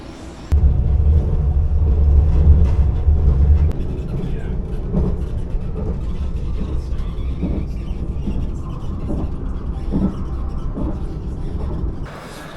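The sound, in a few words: airport train ride in Kuala Lumpur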